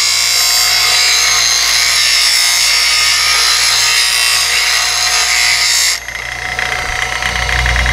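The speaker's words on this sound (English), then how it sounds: "It's got a fingernail grind on it. I've set it up in this one-way tool rest, which I think will give us a nice grind here." A CBN grinding wheel grinds a fingernail-grind woodturning tool held on a one-way tool rest, giving a loud, steady whirring and rasping hiss that drops abruptly near the end as the tool lifts away, leaving the motor running.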